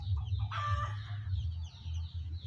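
Two breeding hens on a small backyard chicken farm cluck and call close by, with one brief louder squawking call amid softer low clucks and a steady background hum.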